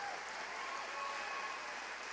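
Audience applause for Korean Jeongseon Arirang folk performers at a cultural center event in Mexico, a steady, dense wash of clapping heard from a distance and fairly faint, with no voices over it.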